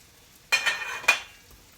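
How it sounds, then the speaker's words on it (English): A fork fluffs oiled couscous in a pan or bowl, giving two short, bright scraping strokes close by against a quiet background. "Just going to fluff it up here just a little bit more"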